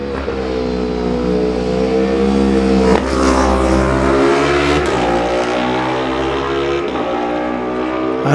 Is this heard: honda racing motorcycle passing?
yes